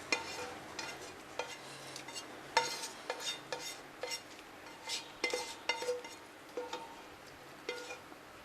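A spoon stirs pasta and chicken into white sauce in a pan, making repeated irregular scraping clinks against the metal, fairly close and moderately quiet, with a soft sizzle underneath.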